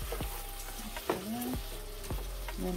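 Peppers and broccoli land in a hot pan for a spicy shrimp, sausage and veggie pasta, giving a steady close sizzle broken by a few sharp clinks and stirring knocks.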